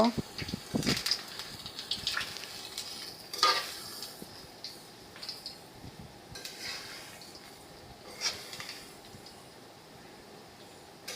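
Sweet palm-fruit fritters (tal bora) fry in hot oil, a soft, steady sizzle broken by a few sharp clinks and scrapes as a utensil stirs and turns them in the pan.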